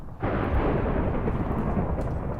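Thunder in a Minecraft game during a storm, heard as a loud sustained rumble that starts abruptly and rolls on steadily, with no voices over it.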